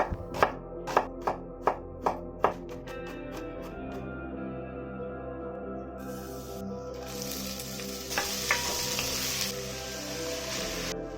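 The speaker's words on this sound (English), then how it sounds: "First I chop some garlic and brown onion, then fry this with some olive oil." Knife chopping garlic and brown onion on a cutting board, six sharp even strikes at the start, then a sizzling fry in olive oil fades up and continues loudly to the end.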